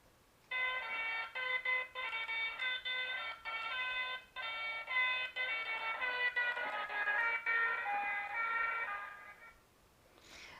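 A moving emergency siren sounds loud and steady for about nine seconds, its wailing tone sliding slightly in pitch as it passes, then cuts off, leaving quiet.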